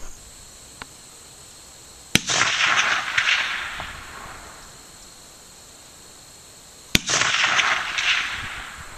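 Two rifle shots fired at a 2-inch target at 250 yards with a cast bullet, each a sharp loud crack followed by a long rolling echo, spaced about five seconds apart, with no talk.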